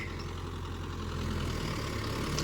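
A Mahindra Yuvo Tech+ 585 tractor pulling a nine-tine plough through wet soil, its engine giving a steady low diesel drone that holds without change from start to finish.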